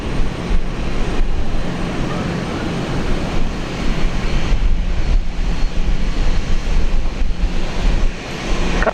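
A Fiji Airways plane departs Brisbane's runway 19 left, a loud, broad, steady engine roar rumbling heavily in the lows and holding for the whole stretch with slight swells, no talk.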